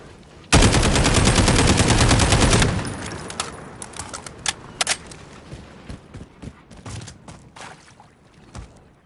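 SCAR rifle in Call of Duty fires a fast sustained automatic burst of about two seconds, loud and close, followed by scattered clinks and mechanical handling sounds.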